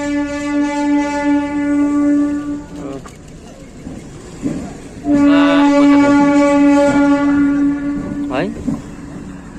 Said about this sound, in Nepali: बिस्तारै कुद्ने रहेछ ट्रेन है